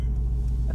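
Mercedes AMG GT-R engine rumbling, a deep, steady low-pitched throb heard close and continuous for under a second.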